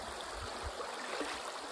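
Steady water flowing over a sluice box used for gold panning near Lake Superior's black sands, a continuous rushing stream that is moderately loud and close, with no talking.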